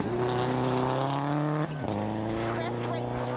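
A Mini rally car at full throttle on a special stage of the 2014 Rallye Défi, its loud, steady engine howl dropping sharply at a quick gear change before climbing again.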